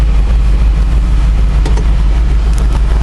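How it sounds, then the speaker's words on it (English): An LS3 V8 car engine runs with a lopey, uneven idle, a loud, close, steady low rumble with slight rhythmic pulsing throughout. "This engine definitely has a lope to it."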